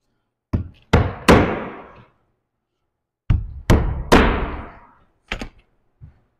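A hammer drives nails to tack down ice and water shield on a shingle roof, with eight sharp, close blows in two groups of three and then two lighter taps, each ringing briefly before fading.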